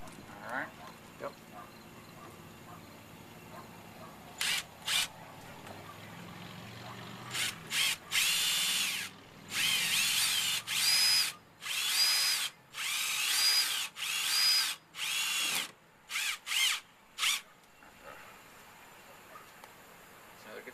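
A power drill drives heavy deck screws during an installation outdoors at Fishing Creek, Maryland, sounding as a series of short and longer whirring bursts up close, with quiet stretches between them.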